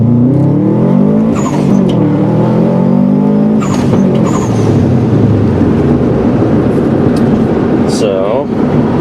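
A car, a WRX, accelerates hard through a 0 to 60 run, loud and close, its engine note climbing and stepping through gear changes, with brief tire squeal and rising pitch sweeps.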